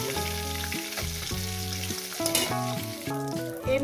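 Tengra fish frying in oil, a steady bright sizzle under prominent tonal background music, continuous and fairly close.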